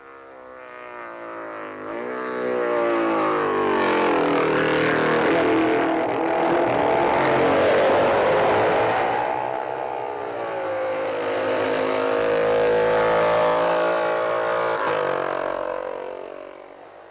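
Racing motorcycles at the 1950 Isle of Man TT roar loudly on the road course, their engine notes rising and falling as they approach, rev and pass, sustained for over ten seconds.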